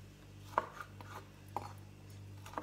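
A knife chops tomatoes into cubes on a board, three distinct sharp taps about a second apart with softer cutting sounds between, quiet and close over a low background hum.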